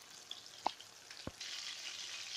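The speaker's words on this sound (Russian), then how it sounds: "переворачиваем на другую сторону и будем жарить также 6 минут" Quiet, steady frying of chicken cutlets in a pan with a soft sizzle, broken by a couple of sharp clicks and taps before the hiss thickens.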